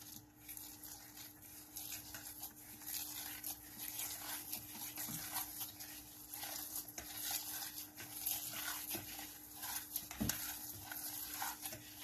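Steady scraping and swishing of a spoon stirring a thick cottage cheese pancake batter in a bowl, continuous with occasional louder knocks against the side.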